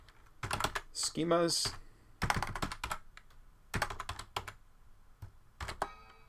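Computer keyboard keys clatter in quick bursts, fairly close, while someone talks over and between the typing.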